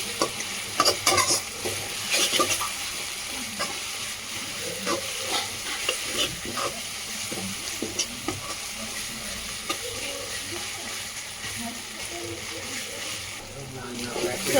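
Ginger and onion being stirred and fried for a chicken curry, with steady sizzling and repeated scraping stirs close by in the pan, continuing throughout with occasional louder clinks.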